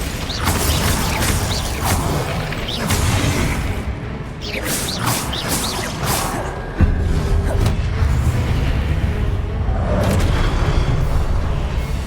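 Repeated blasting spells in the Hogwarts Legacy video game burst as loud booms and crashes amid continuous combat noise, with whooshes and impacts overlapping throughout and a sharp jolt partway through.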